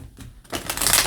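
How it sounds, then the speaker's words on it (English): A deck of tarot cards is shuffled vigorously, a close crisp riffle of rapid papery flutters that swells louder toward the end. "Let's give this a really good shuffle."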